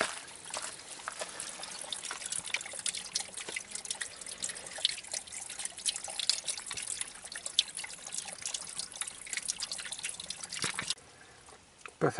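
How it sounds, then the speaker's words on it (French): A small trickle of spring water running in a thin stream near a house, a continuous close bubbling and dribbling with scattered drips, steady throughout before briefly dropping off near the end. "Pas facile de pomper de l'eau dans un si petit filet"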